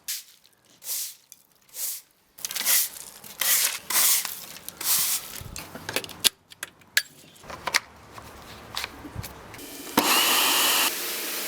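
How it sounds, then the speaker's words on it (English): A pressure washer cleans an outdoor base, spraying in loud bursts that start and stop, then a longer continuous hiss near the end. "Bit of a clean up with the old pressure washer"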